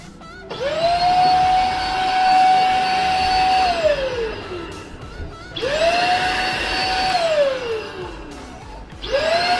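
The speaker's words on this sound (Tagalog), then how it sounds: "It's a very powerful vacuum." A Perysmith X10 Pro corded vacuum cleaner starts up with a rising whine, runs steadily for about three seconds, then winds down; the cycle repeats once more and a third start-up begins at the end, close and loud.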